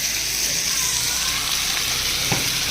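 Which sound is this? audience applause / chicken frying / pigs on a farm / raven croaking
chicken frying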